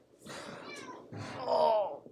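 A pet cat named Muffins meows twice indoors, close and fairly clear, the second cry longer and more drawn out than the first.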